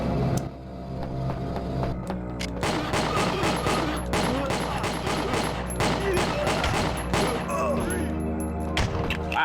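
Rapid gunfire and booming shots from a firefight in the video game Winback during a speedrun, loud and dense throughout with music and effects layered beneath.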